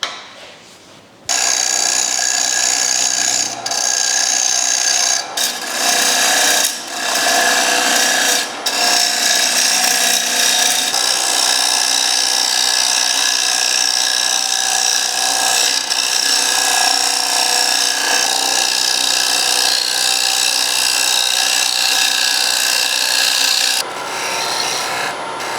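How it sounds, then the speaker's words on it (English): A lathe tool cuts a recess into a large wooden platter blank, a continuous loud scraping rasp with brief dropouts as the tool lifts off the spinning wood. "So now we've cleaned this face up, we can now cut a recess."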